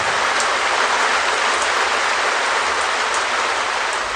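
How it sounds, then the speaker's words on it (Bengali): Heavy monsoon-like rain pours down steadily and loudly, a dense continuous hiss with no voices. "এই সময় বৃষ্টিটা বেশ জোরে এলো,"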